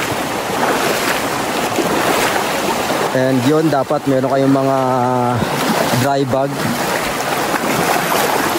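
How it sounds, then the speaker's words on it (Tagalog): River current rushes steadily during river trekking toward hidden waterfalls in Tarlac, a loud continuous wash with wind noise, while someone speaks over the middle stretch. "Mukhang mahaba-habang lakaran to dito sa ilog, sasalubungin nyo yung current."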